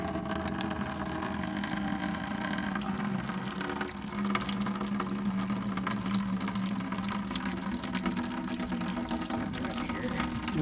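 Water runs and splashes steadily out of a UV filter housing, a continuous close gushing drain with a low pump-like hum underneath and occasional faint clatter.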